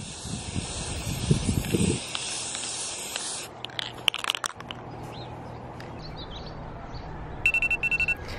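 An aerosol spray paint can lays a light coat on Miata windshield wiper parts, giving a close, steady hiss for about two seconds, followed by faint handling clicks and a short beeping tone near the end.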